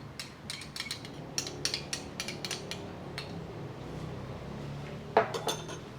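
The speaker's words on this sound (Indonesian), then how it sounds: "Lalu kita aduk sampai rata." Melted butter and black forest chocolate paste being stirred into chocolate sponge cake batter, with quick light clinks and taps of a utensil against a bowl in irregular bursts, close and moderately soft.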